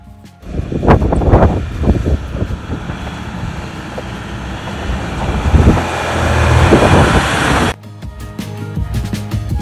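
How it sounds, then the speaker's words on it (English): Strong wind buffets the microphone on an exposed ridge road near Windy Hill on California's Lost Coast, giving a loud, rushing roar that gusts and then drops off abruptly near the end. "It's definitely windy."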